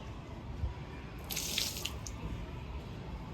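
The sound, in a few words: water poured to wash floor tiles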